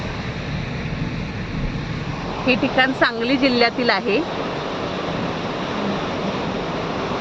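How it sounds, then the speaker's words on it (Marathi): A steady, broad rush of river water pours over a weir built across the river in Sangli district, heard continuously from a bridge, with someone talking briefly in the middle. "हे असं बंधारा बांधलेला आहे नदीवरती"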